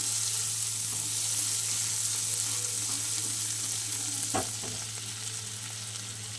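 Prawns frying in a pan give a continuous close sizzle and crackle, with a low steady hum underneath and one sharp tap partway through, no voices.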